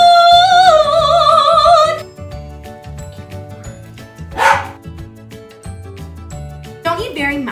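Dogs howl and bark in a home kitchen during baking, with a long rising and falling howl at the start, a sharp yelp midway and more barking at the end, loud and near.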